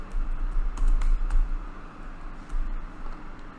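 Quick bursts of clicky keystrokes on a computer keyboard, close and fairly crisp, with short pauses between the runs and no talking.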